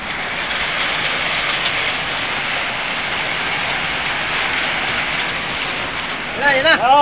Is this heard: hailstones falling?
yes